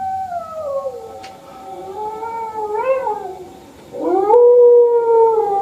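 Dogs howling at night, long wavering cries that slide up and down in pitch, with a brief lull before a louder, higher howl near the end, heard close with no talk.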